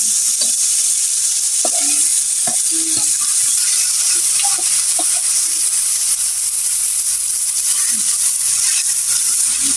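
Bitter gourd frying in a pan with green chilli, onion and salt gives a loud steady hissing sizzle throughout, with scattered clinks and pops as the pieces go in and settle.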